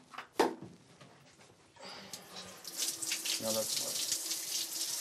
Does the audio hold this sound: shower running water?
yes